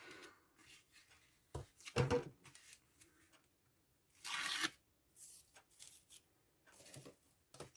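A strip of tape is torn off while crafting with card, a quick rasping rip around the middle with softer rustles and handling sounds before and after.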